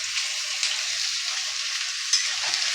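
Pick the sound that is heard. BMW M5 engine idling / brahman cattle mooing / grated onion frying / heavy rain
grated onion frying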